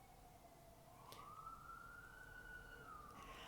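A wailing siren rises and holds a steady pitch before sliding down, heard at a distance over low background rumble with no talking.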